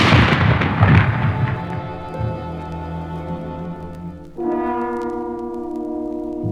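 A rumbling cannon-fire effect for a Revolutionary War battle with Hessian soldiers opens the stretch in a loud, dense boom that slowly fades before sustained tonal music swells in.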